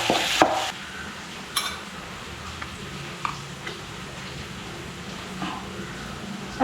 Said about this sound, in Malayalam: ഇനി ഇത് അരിഞ്ഞ് വെച്ചിരിക്കുന്ന തക്കാളി ഇടാം. തക്കാളി ഇട്ടിട്ട് ഇളക്കി കൊടുക്കാം.